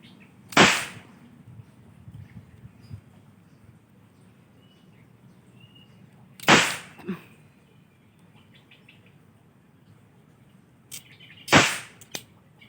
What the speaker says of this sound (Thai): เดี๋ยวเราลองมายิงแก๊ปอีกสัก วงหนึ่งนะครับ